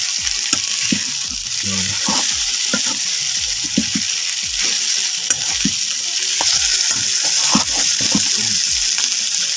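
Saag greens fry on low heat, a continuous sizzle overlaid with frequent clicking and scraping strokes of a spoon stirring in the pan, close and fairly loud.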